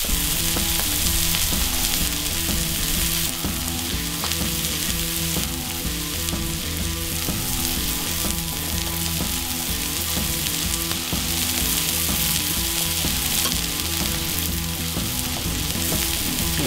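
Buttered burger buns and smashburgers sizzle on a flat griddle, a dense, steady hiss with small pops that carries evenly for the whole stretch, close and alone without talk.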